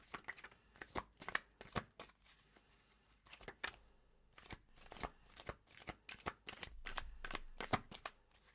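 Tarot cards being shuffled and drawn, a quick run of crisp riffling flutters and soft snaps, close and fairly quiet, with short pauses between bursts and no talking.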